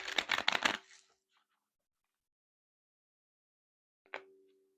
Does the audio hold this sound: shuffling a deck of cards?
yes